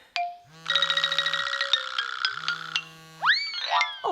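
A telephone rings with bright, repeating electronic tones between cartoonish springy boing effects, close and clear with no voices.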